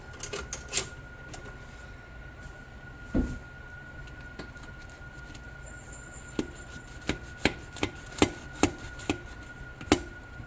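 Knife or spatula cutting into a keto lasagna in a pan, with sharp scattered clicks and scrapes against the pan over a quiet room, close and without talk.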